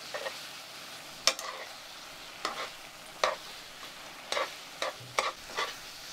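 Chapaguri noodles are stir-fried in a pan until the liquid cooks off. A quiet sizzle sits underneath, broken by intermittent scraping stirs of a utensil, about eight short strokes spaced irregularly, with no talking.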